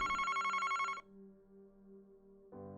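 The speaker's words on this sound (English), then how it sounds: "Oh, the phone's ringing." In the video game Famicom Detective Club, a synthesized telephone rings in a bright, rapidly trilling electronic tone, then a softer held chime and a new tone beginning.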